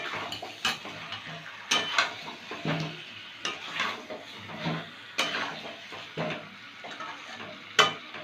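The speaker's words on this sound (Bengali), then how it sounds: "এবার ঢাকা সরিয়ে একটু নেড়ে দেবো।" Meat curry with potatoes is stirred in a pan after the lid comes off, with repeated close spoon scrapes and clinks against the metal over a low sizzle, in an irregular rhythm.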